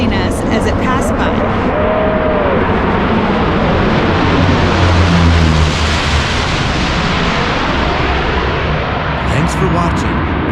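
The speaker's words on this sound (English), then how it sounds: "The plane flew quickly toward us, skimming above the water, narrowly missing us as it passed by." A loud airplane roars in, skimming low over Redfish Lake in the Sawtooth Mountains, swells to a peak as it passes close overhead, then its engine drone fades away.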